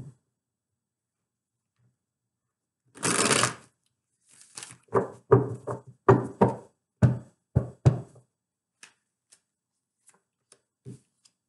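Tarot cards are shuffled in a quick riffle, then a run of soft, separate taps and slaps follows as cards are pulled from the deck and set down, close and clear in an otherwise quiet room.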